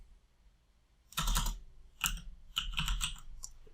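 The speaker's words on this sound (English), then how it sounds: "I can type something like win iPhone" Keys on a computer keyboard are typed in a few quick bursts as a short search phrase is entered, close and crisp, with brief pauses between the clusters of keystrokes.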